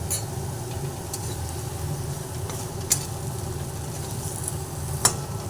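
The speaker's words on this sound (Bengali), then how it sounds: "এইভাবে আর একটু নাড়াচাড়া করে ভেজে নিচ্ছি" Vegetables with a little turmeric being stirred and fried in a pan for a vegetarian dish, a steady low sizzle with a few sharp scrapes of a spoon against the pan, close and continuous.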